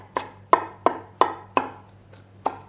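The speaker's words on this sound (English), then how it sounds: "So chopped up the coriander roughly by just running your knife through." A knife chops fresh coriander roughly on a board: six crisp, evenly spaced chops, close and clear, with no talking.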